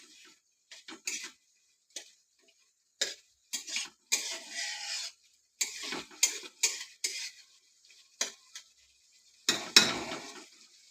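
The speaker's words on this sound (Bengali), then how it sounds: "নাড়িয়ে চাড়িয়ে ভালো করে নিতে হবে" A utensil scrapes and taps in a pan as taro curry with fried, crushed fish head is stirred, with sparse, irregular clicks and brief scraping bursts close up.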